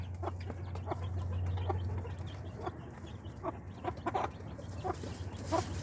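Roosters and hens clucking in a backyard flock in the morning, with a drake also present; repeated short clucks and calls at moderate distance over a low steady hum, with no talk.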